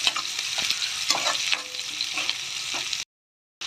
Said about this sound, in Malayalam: ചെറിയ ഉള്ളി എല്ലാം കൂടി നന്നായി മൂപ്പിക്കുക